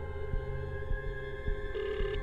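Electronic telephone ringing heard on a call, a repeating tonal ring pattern with faint clicks, moderately loud and steady over two seconds with no talk.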